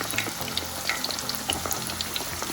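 Chicken katsu crackles in hot oil in a pan right after being flipped, a steady close sizzle with small pops and spits throughout.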